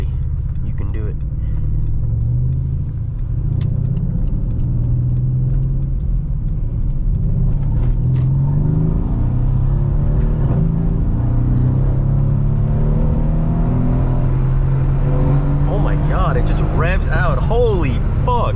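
A 500hp V8 car rumbles loudly from inside the cabin, its engine note rising and falling as it pulls away and accelerates, with people talking over the deep drone.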